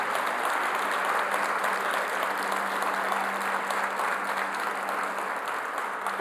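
Church congregation applauding during a sermon, a dense, sustained roomful of clapping that stays level and unbroken throughout, with a faint steady hum beneath it.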